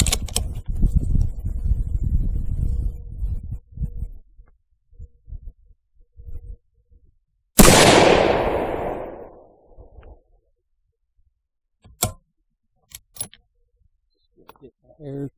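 A Remington 700 rifle fires a single sharp, loud shot that rings out with a long fading echo across an outdoor long range shooting setting of 100 to 500 yards. Someone talks before the shot and a faint click follows it.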